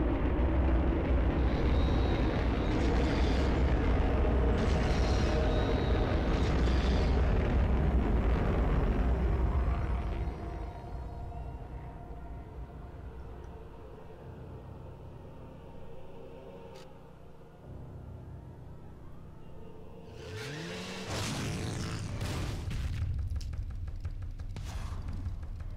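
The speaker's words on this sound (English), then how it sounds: "we are launching a rocket in the middle of the city" A rocket launches in the middle of a city in the video game Bayonetta: a loud, dense roaring rumble holds for about ten seconds, drops to a lower droning tail, then swells again in a fresh burst near the end. No one speaks.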